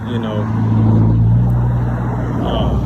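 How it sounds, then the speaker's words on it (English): Cars pass close by on a road in a loud, steady engine and tyre rumble that swells and eases, while someone talks outdoors over the traffic. "sorry, all these cars coming by all of a sudden"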